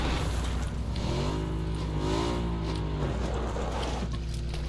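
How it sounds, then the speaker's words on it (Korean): A car engine in PUBG approaching from a hillside, a steady droning motor with rising and falling pitch as it revs, heard at moderate distance over continuous game background noise. "차 소리. 산에서."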